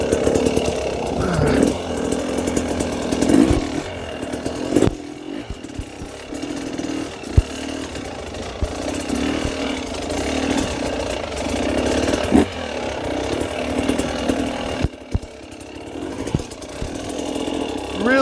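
A hard enduro dirt bike engine revs in short, uneven bursts, rising and dropping as the throttle is feathered. It sounds close and fairly loud, with brief quieter gaps between pulls.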